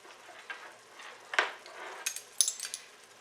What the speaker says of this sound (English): Then I'm going to add the onions and peppers, and we'll cook those for a few minutes